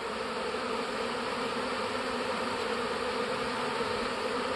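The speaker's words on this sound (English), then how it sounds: "the bees are starting to move out of this box into there" A honeybee swarm buzzing around a box, a dense, steady drone of many wings that holds evenly and close throughout.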